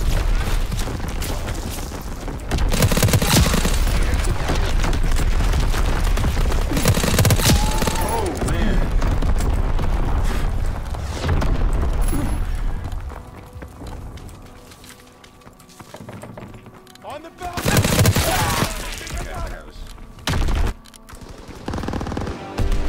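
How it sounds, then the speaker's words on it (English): Incoming enemy artillery shells explode in a World War 2 video game, heavy booming blasts landing in bursts amid machine-gun fire and battlefield clamor, with a player's voice talking over the chaos. "Incoming enemy artillery!"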